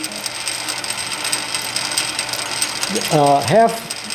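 Gear train of a South Bend C9W lathe feeding the carriage at one of its slowest speeds, a steady fine mechanical ticking and whirring, with a short rising whine near the end.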